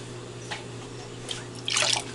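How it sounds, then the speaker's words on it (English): A little water poured into a covered pot of spaghetti and meatballs, faint drips followed by a short, close splash of pouring near the end. "Gonna add a little bit of water,"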